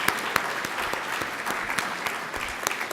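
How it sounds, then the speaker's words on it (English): Conference attendees clap for sponsors at a healthcare event, a moderate, somewhat distant round of applause with scattered sharper individual claps standing out over the steady patter. "round of applause"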